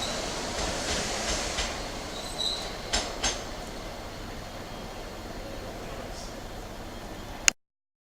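A Class 321 electric train bound for London Liverpool Street rolls through Ipswich Station with a steady rumble, a few sharp clanks and squeaks in the first half, then stops abruptly.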